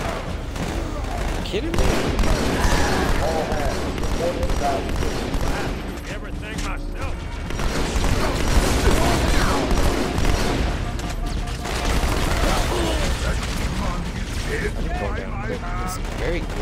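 Rapid turret gunfire in a Halo video game, a dense, loud continuous barrage of shots with booms running throughout, while players talk over it.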